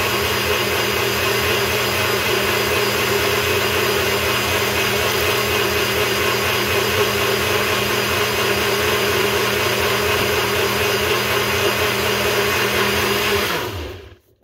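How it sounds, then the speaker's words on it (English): A countertop blender runs at home while making coffee, a loud, steady whirring roar holding for about fourteen seconds before cutting off abruptly at the end. No voices are heard. "you have to plug the blender in or it doesn't work"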